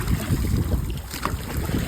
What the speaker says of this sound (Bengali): বন্ধুরা প্রচন্ড হাওয়া উঠে গেছে নদীর মাঝখানে, আর বৃষ্টি হচ্ছে